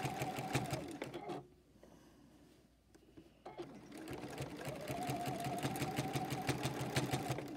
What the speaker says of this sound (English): I'm just going to baste as close to the edge as I can get and as close to the line that I've already sewn